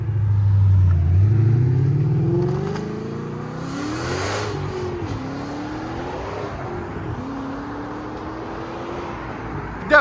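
A 770hp supercharged Ford Mustang GT with a 5.0L V8 revs with its exhaust valves closed, starting with a loud, deep rumble and then climbing and falling through several sustained revs at close range.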